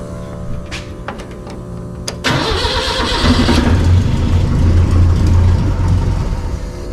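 A Datsun truck's engine cranks briefly and then catches after a carburetor swap, settling into a loud, rough, uneven running roar that holds steady until the end, close to the microphone with no talking.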